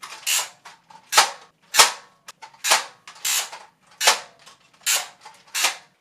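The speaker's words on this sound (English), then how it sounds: "And I just love the ratcheting noises." An X-Shot Vigilante break-barrel toy shotgun blaster gives a series of sharp plastic ratcheting clacks and snaps as its barrel is flicked open and shut, close and crisp, with no talking.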